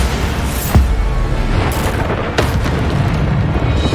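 Bombarda spell explosions in Hogwarts Legacy, dense booming blasts over a continuous loud rumble of combat, with sharp bursts landing about once a second or two and no voices.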